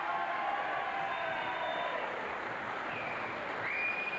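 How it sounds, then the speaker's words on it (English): Audience applause following the decision in a boxing bout, a broad, steady wash of clapping with some crowd noise mixed in. "And a round of applause, please."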